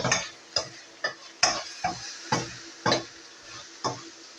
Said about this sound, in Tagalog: Ayan, haluin na natin ito guys